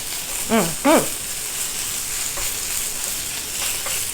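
Onions frying in a pan for a sausage dish, with a steady, soft sizzle running throughout and a couple of brief voiced sounds near the start.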